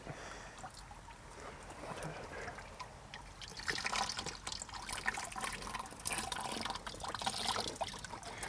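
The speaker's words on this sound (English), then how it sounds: "You want to rinse off the outside of your net to make sure everything gets washed into your bucket." A wash bottle rinses water over a macroinvertebrate sampling net into a bucket at a river riffle, a steady trickle and splash that grows louder midway, close and continuous, with faint talk underneath.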